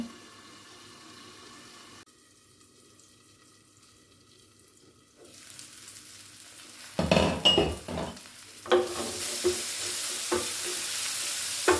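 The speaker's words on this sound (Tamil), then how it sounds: "தக்காளி பழம் நல்லா வதங்கட்டும் கொஞ்சம் நேரம்." Tomatoes sautéing in a covered pan over low heat for palak paneer, a soft hiss at first that turns louder and brighter, with stirring clatter and bursts of sizzle near the end.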